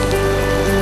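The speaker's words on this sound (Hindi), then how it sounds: "लेकिन बारिश है कि अभी जाती नहीं दिखती।" Steady, dense rain pours down during a stormy spell of hail and rain in North India, a loud continuous hiss of drops striking surfaces up close, with no voices.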